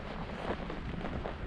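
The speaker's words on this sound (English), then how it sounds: "You can see how windy it is, the trees blowing around" Strong wind on the Isle of Mull buffets the microphone in a brief, steady roaring gust full of low rumble.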